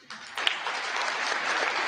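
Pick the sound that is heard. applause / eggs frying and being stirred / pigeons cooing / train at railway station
applause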